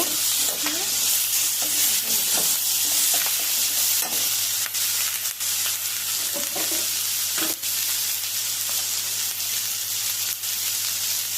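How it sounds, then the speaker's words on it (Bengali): Onion, green chilli and vegetables sizzle and fry in hot oil for a puti fish curry, a constant loud hiss broken by scraping stir strokes of a spatula, with a steady hum underneath. "সঙ্গে তরকারিটা দিয়ে দিলাম, দিয়ে এখন তরকারিটা ভালো করে ভেজে একটু কষিয়ে নেব।"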